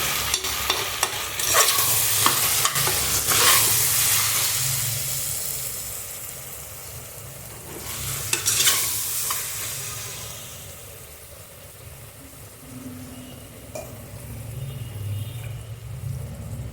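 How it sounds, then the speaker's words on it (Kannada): Mutton masala, garam masala, chilli powder, coriander powder and salt being fried and stirred in a pan for kushka rice, a steady close sizzle with scraping stir strokes, rising and easing in loudness, no talk. "ಅಚ್ಕಾರ ಪುಡಿ, ಧನಿಯಾ ಪುಡಿ, ಉಪ್ಪು, ಇದನ್ನೆಲ್ಲ ಹಾಕಬೇಕು. ಹಾಕಿ ಫ್ರೈ ಮಾಡ್ಕೋಬೇಕು."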